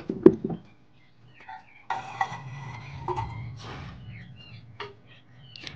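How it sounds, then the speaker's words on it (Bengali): Metal utensils clink and scrape against a pot as boiled okra is lifted out of the water, scattered knocks and clatters with short quiet gaps between them. "এবার এই ভেন্ডিগুলোকে আমি জল থেকে ছেঁকে তুলে নেব।"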